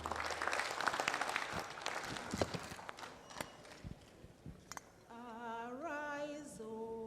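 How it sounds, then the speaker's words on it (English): Applause from an audience at a Nigerian women's association convention, a brief burst of scattered clapping that fades, followed by a musical instrument beginning to play. "Please give her a round of applause again."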